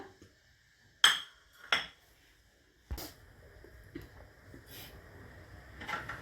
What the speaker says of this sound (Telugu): స్టవ్ ఆన్ చేసుకుని గిన్నె పెడుతున్నా.